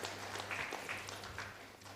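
Applause for the priest, Father Patrick, at a Catholic wedding mass in church, a steady crowd clapping that runs throughout, moderately loud over a low hum.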